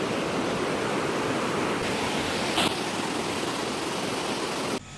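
A clear river runs through a forest recreation area, a steady, loud rush of water that stays constant throughout with no voices.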